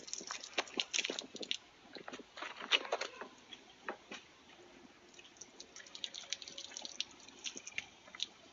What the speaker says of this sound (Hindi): ये गर्म पानी जहाँ पर डंट पड़ा उसके ऊपर डाला जा रहा है।